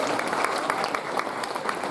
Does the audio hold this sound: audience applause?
yes